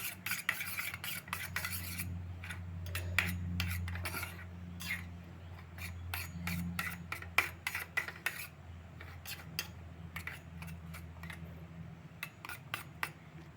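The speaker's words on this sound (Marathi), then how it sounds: "आता ढवलून घेतो एकदम बारीक ढवला" Eggs whisked with salt in a bowl, heard as quick, quiet, rhythmic clinks and scrapes of the whisking strokes that continue steadily, with no talking.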